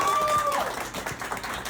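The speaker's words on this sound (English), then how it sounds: "Round of applause. Give her some." Crowd clapping for the winner of a high-speed onion cutting challenge, a scattered, moderately loud patter of hands following a brief bright tone at the start.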